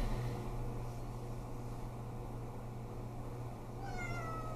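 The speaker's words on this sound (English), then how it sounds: "trying to make this video with this cat" A cat meows up close, a drawn-out rising and falling cry near the end over a steady background hum.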